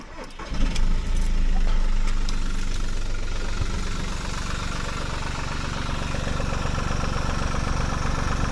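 An Audi A2 engine cranks briefly and catches, then settles into a steady, close idle with a low rumbling drone that holds for several seconds, and no one talks.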